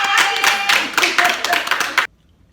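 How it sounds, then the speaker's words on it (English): Dense applause from a group of people, loud and continuous for about two seconds, then cutting off abruptly into silence. "her a round of applause"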